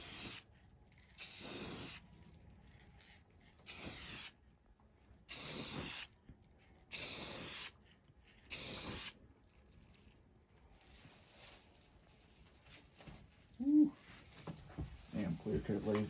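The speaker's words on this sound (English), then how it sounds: "Now it's time for some clear coat." Short bursts from a spray can lay clear coat on color-matched door handles of a 2003 Ford PowerStroke 6.0 truck, five or six close hissing sprays separated by pauses, followed by faint handling sounds.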